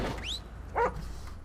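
Police K9 dog in GTA V giving a short rising whine, then a single sharp bark a moment later, moderately close with no talking.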